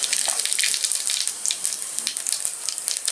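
Cumin seeds sizzle in hot sweet oil in a kadai, a close, steady, bright hiss with fine crackling spatter throughout.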